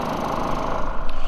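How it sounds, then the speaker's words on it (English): A steady engine drone from a small portable gasoline generator running, continuous and fairly loud, with a low rumbling pulse throughout. "Obviously, you can hear the generator in the background,"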